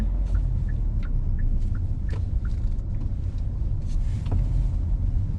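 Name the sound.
Hyundai Santa Fe driving on city expressway at night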